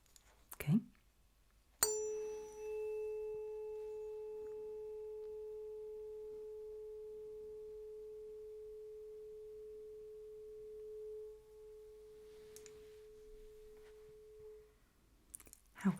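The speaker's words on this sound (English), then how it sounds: "Describe the experience of listening to those tuning forks for me" A struck tuning fork rings out in a pure, steady tone that slowly fades over more than ten seconds in a quiet room, with a soft tap at the start and light handling noises at each end.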